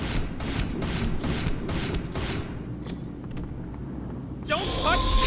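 Enemy gunfire in the video game Hunter: The Reckoning, sewer level on nightmare mode, a fast rhythmic volley of sharp shots in the first half, then scattered pops, ending with a bright electronic game effect.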